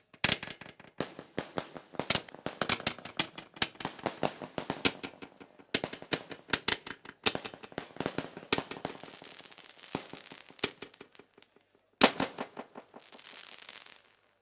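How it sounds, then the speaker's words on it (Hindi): Firecrackers burst to welcome guests at a mushaira poetry gathering, rapid chains of sharp cracks and pops crackling loudly and continuously for several seconds with brief pauses, then a final louder volley fading out. "पटाखे से स्वागत और इस तरह से उद्घाटन हो चुका है।"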